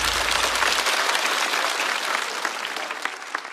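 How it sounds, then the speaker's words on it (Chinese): A studio audience at a stand-up comedy show breaks into dense, sustained applause, loud and close at first and then slowly thinning out, with no speech over it. "再次掌声送给张慧"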